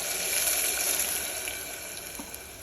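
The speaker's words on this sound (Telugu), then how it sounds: "కొన్ని నీళ్లు పోస్తున్నాను నీళ్ళు." Water poured into a pot of husked black gram (urad) lentils, a steady close splashing wash that runs evenly for a few seconds with no talking.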